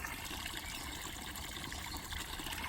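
Water from Pilgrim's Rest spring trickles steadily nearby, a faint, even wash of splashing and dribbling with no voices.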